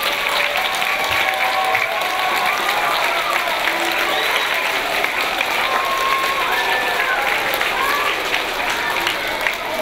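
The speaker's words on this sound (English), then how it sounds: "How about one last applause for these fourth graders?" Sustained applause from a school winter concert audience cheering a group of fourth graders, a dense, steady patter of clapping hands with a faint crowd murmur beneath, lasting throughout.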